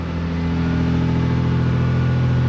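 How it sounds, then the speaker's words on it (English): A Lexus SC300 engine with an exhaust leak, hood open, held at raised revs: a loud, steady rumbling drone with a raspy, puffing edge throughout. "you can tell in the throttle it's got an exhaust leak"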